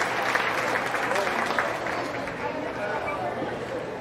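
Spectators at a county fair sheep show give steady applause for the young exhibitors, a continuous clapping texture mixed with crowd murmur and background babble.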